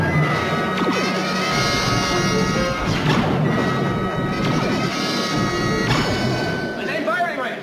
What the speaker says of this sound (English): Laser banks lock on. Return fire.